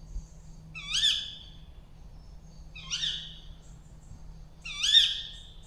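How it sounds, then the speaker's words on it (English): An owl calls three times at dawn in a wild woodland camp, each hooting call spaced about two seconds apart and standing out clearly above a low steady background hum. "It's an owl."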